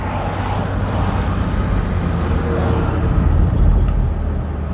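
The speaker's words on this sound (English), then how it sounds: "And the traffic seems to be a little bit heavy." Steady low rumble of road traffic heard from inside a car cruising down a busy strip, a continuous engine and tire drone with no talk.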